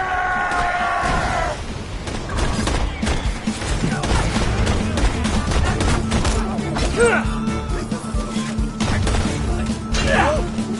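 Mercenaries firing guns in the video game Borderlands 2, a busy stretch of rapid gunfire, impacts and crashes mixed with game voices and cries, loud and dense throughout.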